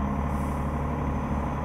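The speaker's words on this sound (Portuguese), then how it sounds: "É um som do caminhão" Truck engine from a modded truck-driving simulator, running as a steady low rumble at constant level with broadband road noise. It stays close and continuous for the whole moment, with no voices.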